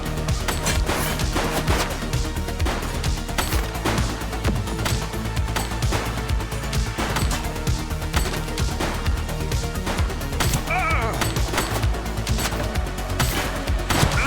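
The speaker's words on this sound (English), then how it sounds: "He's shooting!" Sustained gunfire in The Precinct, a police video game, with dense overlapping bursts and shots running loud and continuous over a busy mix of game sound, with no pauses.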